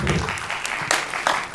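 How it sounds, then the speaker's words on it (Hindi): Brief burst of applause from a theatre audience after a play, loud and close clapping with uneven swells lasting under two seconds. "एक बार जोरदार तालियां हो जाएं"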